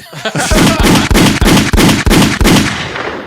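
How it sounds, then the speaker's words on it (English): Gunshot sound effect dropped into a podcast: about seven loud, sharp blasts fire in quick succession, close and punchy, with ringing tails that fade out at the end. "hit the gunshots"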